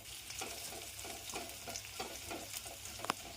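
Garlic paste frying in oil with peanuts and curry leaves, a quiet steady sizzle with rhythmic stirring scrapes repeating about every third of a second, and a sharper clink near the end.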